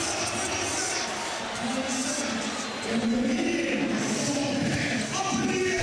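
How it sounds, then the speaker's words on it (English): A basketball arena crowd roars and cheers after a dunk contest slam, a dense, sustained wash of voices that swells louder near the midpoint and stays high to the end. "Whoa, that got the crowd going"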